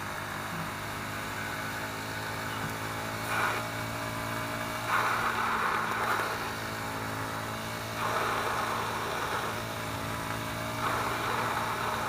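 Honda CBR 125R motorcycle, 2011 or later model, on a quick lap, its small single-cylinder engine droning steadily with several swells of revving, heard with heavy wind rush and no talk.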